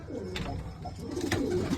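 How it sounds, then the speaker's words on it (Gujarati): Pigeons kept in an enclosure coo softly at close range, a low murmuring warble that runs through the whole moment with a few overlapping calls. "તો જો આ બધો કબૂતર છે અંદર"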